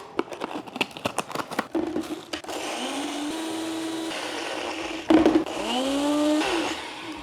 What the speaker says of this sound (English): We're going to crumb these up in my Ninja mixer